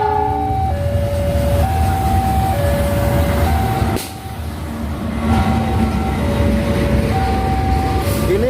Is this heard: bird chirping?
no